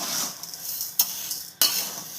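Drumstick leaves with salt are stirred in a dry frying pan, a soft continuous scraping rustle broken by two sharp clinks of the spoon against the pan.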